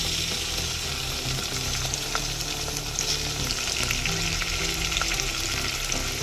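Ginger garlic paste frying with browned onions in a pan for chicken curry, a loud, steady sizzle with occasional stirring scrapes close up, no voices.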